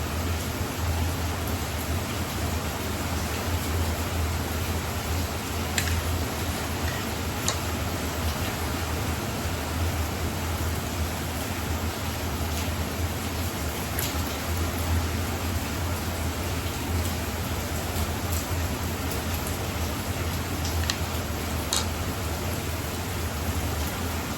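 Heavy rain pours down outdoors as a continuous, loud, uniform hiss, with occasional faint drip ticks and no voices.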